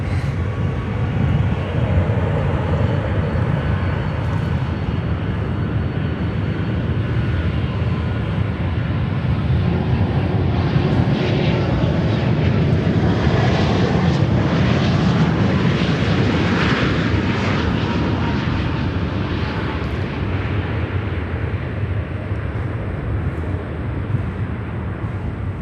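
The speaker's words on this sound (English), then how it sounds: "let's go over to the Dreamliner" A Boeing 787 Dreamliner airliner at Chicago O'Hare airport gives a loud, continuous jet engine roar, a broad rumble that swells and holds steady throughout, heard alone.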